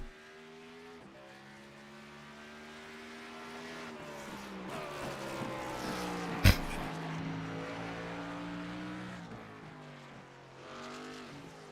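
Race cars roar around the Mid-Ohio Sports Car Course, their engines droning steadily at mid distance and swelling as cars approach. A sharp loud crack stands out midway through the clip.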